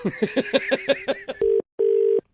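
A telephone keypad beeps rapidly through a string of dialing tones, followed by two long steady ringback tones with a gap between them, close and clear for a prank call.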